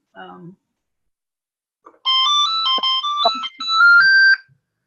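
A phone ringtone plays a bright, melodic run of electronic tones for a few seconds, clear and close, after a brief bit of talking.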